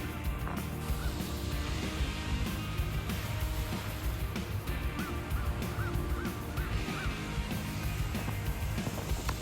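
Geese honk repeatedly outdoors after a snowstorm, a run of short, evenly spaced calls standing out over a steady broadband background of wind or ambient noise, fairly distant.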